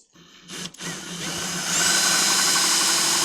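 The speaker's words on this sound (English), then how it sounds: "we're going to try and drill it" A power drill biting into a metal CVT part as the bit fails to go through: a short start and stop, then a sustained whining grind that rises and stays loud to the end.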